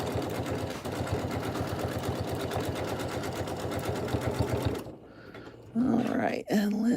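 A Janome M17 sewing machine stitches in a steady rapid rhythm with a pre-wound bobbin, running loud and close for about five seconds before stopping, after which a voice speaks briefly.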